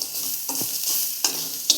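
Dried fish frying with chilli and onion, stirred in a pan: a few scraping stirs over a continuous soft sizzle, close and alone.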